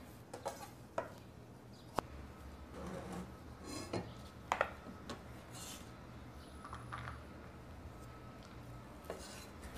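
A knife mincing peeled garlic cloves on a cutting board gives sparse, irregular taps and light scrapes, faint and close, with no one speaking.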